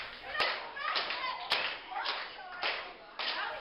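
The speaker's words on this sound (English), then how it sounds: "it appears that all 7 people in the crowd are clapping along with him" Sparse clapping from a tiny crowd of about seven people at a small independent wrestling show, uneven rhythmic claps with a few sharper slaps standing out, fairly close in a small room.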